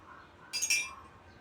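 A quick clink of a spoon stirring gin and soda water in a glass, a brief bright tinkle of two or three close touches amid quiet room tone.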